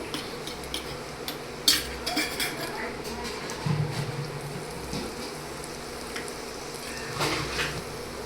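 Crushed garlic sizzles steadily in hot oil with ground coriander, cumin and sesame for a Kathiawadi garlic chutney, a continuous close crackling hiss with a few light utensil clinks.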